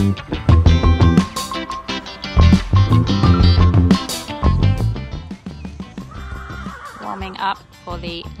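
Horses neigh loudly and repeatedly at a show jumping clinic, with close whinnies and calls set against nearby voices and arena noise.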